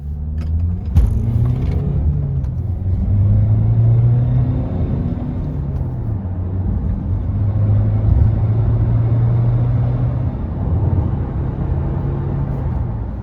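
A 2017 Honda CR-V 1.6 diesel SE accelerating through the gears on a wet road, heard from inside the cabin: a steady engine drone climbs in pitch, drops at each shift, then climbs again, over constant road rumble.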